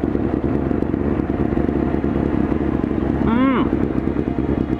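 A Honda motorcycle being ridden one-handed, its engine giving a continuous, loud, close drone with a brief rising whine near the end and no talking over it.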